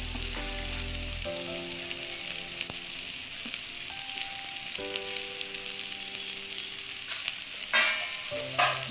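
Sprouted beans thoran cooking in a pan gives a bright, steady hiss of frying close by, with a few faint scrapes of stirring and a brief louder rustle near the end, no voices.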